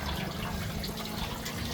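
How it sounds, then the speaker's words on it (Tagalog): Flush liquid and water gush out of an Isuzu Traviz radiator after the cap is opened, a loud steady splashing pour of draining coolant, close and continuous without speech. "So pagkabukas, so umagos na yung ating flush at saka yung tubig."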